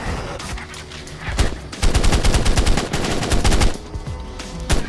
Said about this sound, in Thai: ช่วยกันด้วยคาโน่ ยิงขึ้นมา